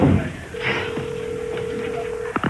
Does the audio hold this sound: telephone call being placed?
yes